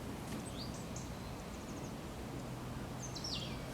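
Birds sing outdoors in faint, scattered chirps and rising whistles over a soft background hiss, distant and quiet with no talk.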